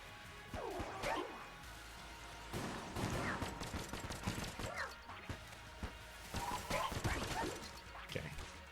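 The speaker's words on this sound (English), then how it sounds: "That was about 12 shots there" Bursts of gunshots in Enter the Gungeon, rapid crackling volleys of about a dozen shots in clusters with impact crashes, fairly faint under game sounds.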